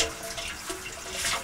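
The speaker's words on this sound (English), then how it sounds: "put some more hot water in there" Hot water running steadily into a metal beer keg during keg cleaning, a continuous rushing, splashing pour close by with no talking.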